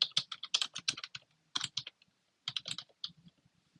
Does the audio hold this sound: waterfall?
no